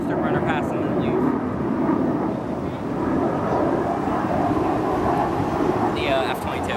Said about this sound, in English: I think it's gonna do one final full afterburner pass and then leave.